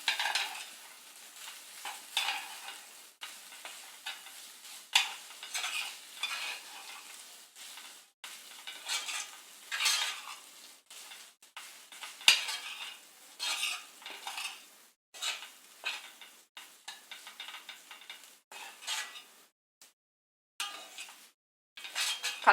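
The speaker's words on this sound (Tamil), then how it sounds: "நல்லா கிளறி விட்டுருங்க" Mango rice being stirred in a pan with a metal spoon, steady scraping and clinking strokes over a faint sizzle, close and fairly quiet, with short pauses between bursts.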